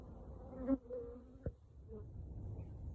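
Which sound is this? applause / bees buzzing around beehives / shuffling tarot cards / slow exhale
bees buzzing around beehives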